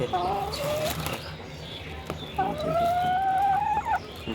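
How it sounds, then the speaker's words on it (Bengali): A crested hen of a large farm breed clucks close by on a farm, with two drawn-out calls and a brief wing flap in between against steady background noise. "দেখুন এটাও কিন্তু আমার খোপা মুরগি খোকাওয়ালা এটা অনেক ভালো জাতের"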